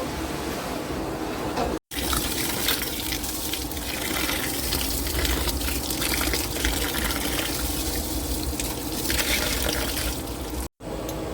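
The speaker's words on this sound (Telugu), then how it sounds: "నీళ్ళు పోసుకుంటున్నాము." Water gushes steadily into a cooking pot for several seconds, a continuous rushing pour broken by two brief cuts.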